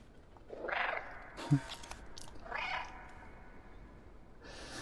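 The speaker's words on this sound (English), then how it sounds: "the meow is different every time you do it as well" A cat meows twice in the video game Stray, fairly close, with a short click between the calls and quiet background hiss.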